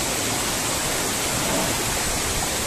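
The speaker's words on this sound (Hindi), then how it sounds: "यहाँ से ये देखिए ये झरना सामने, जस्ट झरना है इस ऊपर में" Jamargidi waterfall pours in a steady, dense, full-band roar, loud and continuous with no breaks or voices, like close falling water.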